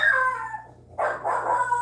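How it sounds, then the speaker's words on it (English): A household dog at home lets out a drawn-out howl, pauses briefly, then howls again, fairly loud and close, with no talking over it. "Let me go see what my dog's going on about."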